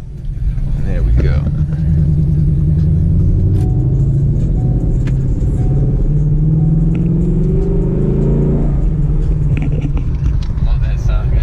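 Sports car engine, a Mustang GT500 or Camaro ZL1 in track mode, loud deep close rumble that swells and revs steadily, with a voice talking over it.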